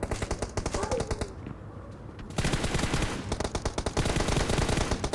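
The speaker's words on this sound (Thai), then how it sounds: "หยิบปืนเสียงเกมก็จะออกมาแบบมีคุณภาพ" Rapid automatic gunfire from a video game rattles in loud bursts, breaks off for about a second, then resumes as sustained fire.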